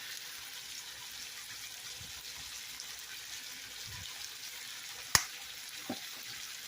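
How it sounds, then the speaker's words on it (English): Peppers, green onions and sausage frying in a pan give a steady, faint sizzle throughout, with one sharp utensil click partway and a softer tap shortly after. "We have our peppers down here and the green onions cooking to get a little coating on the sausage"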